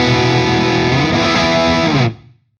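A loud, gritty electric guitar chord through a Wampler Belle overdrive pedal rings out with thick sustain, shifts slightly midway, then cuts off and fades quickly.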